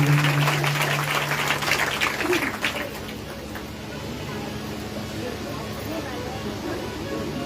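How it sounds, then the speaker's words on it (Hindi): Wedding guests at a Shiv Mahapuran religious gathering are welcomed with clapping from a crowd that is fairly loud at first, then thins out and fades within about three seconds, leaving a faint murmur of voices and room noise. "एक बार इन बारातियों के लिए जोरदार तालियों का स्वागत करेंगे"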